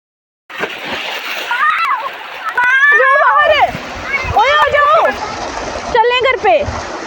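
Children splashing water under a farm irrigation pipe outlet in a village field, with bursts of splashing and splattering throughout, nearby and fairly loud, mixed with excited children's voices and chatter.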